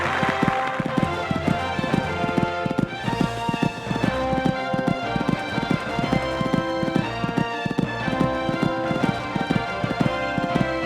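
Steady, rapid hoofbeats of a galloping horse on a cross-country course in the video game Equestriad 2001, a driving rhythmic clip-clop that continues without pause throughout under a low background tone.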